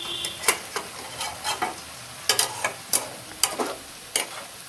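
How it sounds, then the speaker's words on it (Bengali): Onions and chilies for a pointed gourd curry fry in a pan under a soft sizzle, punctuated by sharp, irregular scrapes and clinks of a spoon stirring, close and clear. "এই যে পটল তরকারি রান্না করার জন্য পেঁয়াজ মরিচ ভাজা ভাজি হইতেছে"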